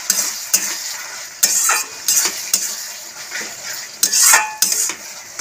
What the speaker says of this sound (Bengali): খেজুরটা দিয়ে নাড়াচ্ছি ফ্রেন্ডস, নাড়ানো হয়ে গেছে